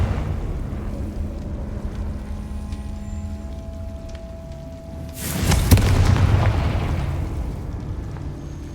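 In the Harry Potter video game, a Confringo spell sets off a loud, deep explosive boom midway through, rising sharply and then rumbling away over a low ambient drone.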